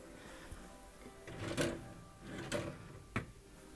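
Desk drawers in a furniture store showroom slide and knock shut, a few quiet close wooden thumps and rumbles spaced about a second apart, with no talking.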